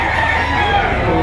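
A rooster crows amid the clucking of chickens at a busy chicken market behind SM Lipa in Lipa City, Batangas, with fowl calls dense and close over constant crowd noise.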